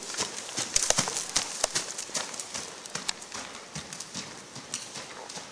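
Horse trotting during a riding lesson, hooves clip-clopping in a quick, steady rhythm close by, with occasional soft rustle around the strides.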